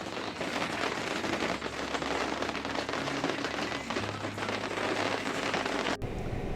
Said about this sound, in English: Still dripping rain, but not as hard.